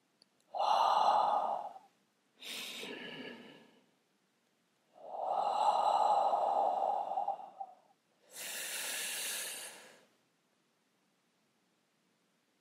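Slow, deep meditation breaths: four long, airy inhales and exhales, close and distinct, separated by stretches of near silence.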